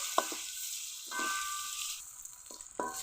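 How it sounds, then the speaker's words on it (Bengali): Eggs frying in oil seasoned with salt and turmeric give a faint, soft sizzle, broken by a few sharp utensil taps and scrapes against the pan. "ডিমগুলো ভাজা হয়ে গেছে, এখন তুলে নিব"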